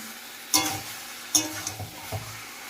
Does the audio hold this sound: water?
no